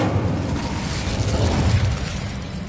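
The Incendio fire spell in Hogwarts Legacy bursts with a deep, rumbling, crackling roar of flame that lasts a few seconds, loud and close, with no voices.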